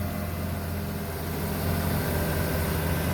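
A Hitachi ZX200-1 excavator's Isuzu 6BG1 direct-injection diesel runs steadily with a deep, even drone that holds at constant loudness throughout, close by and with no voices.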